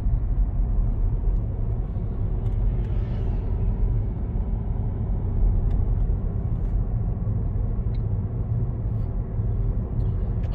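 Steady low road rumble and engine drone from inside a car cruising at 50 km/h on a town road, continuous and even throughout with no speech.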